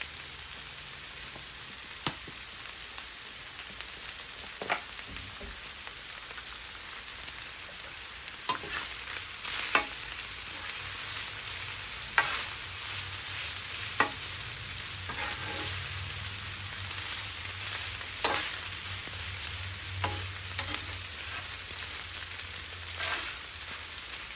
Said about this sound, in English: Try to break it up a little bit, that's for sure. Get all that rice fried.